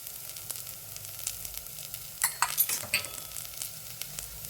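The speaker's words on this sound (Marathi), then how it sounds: "आता आपला महत्त्वाचा मसाला सांबर मसाला, हे सगळं घालून परतून घेऊया थोडंसं।" Spices such as sambar masala, turmeric and red chili being stirred and sautéed in a pan for masoor pulav, a soft steady sizzle with a few louder scraping stirs near the middle, quiet and close.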